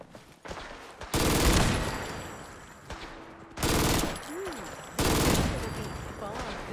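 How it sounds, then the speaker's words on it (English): Video game gunfire from Fallout 4 as turrets are shot at, with three loud bursts of rapid shots separated by quieter gaps of background game noise. "I'm about to shoot these turrets."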